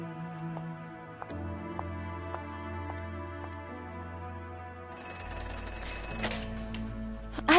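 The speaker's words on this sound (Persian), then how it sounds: "تلفن." A telephone ringing indoors, repeated bright electronic rings at steady intervals over a low background hum, ending in a louder burst.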